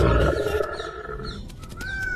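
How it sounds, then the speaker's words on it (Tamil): A lion roars while hunting in an animated Tamil children's story: a loud, sustained growling roar with a strained tonal edge, fading into a lower rumble and rising again, with no talking. "அது சிங்கராஜா வேட்டையாடுறாரு."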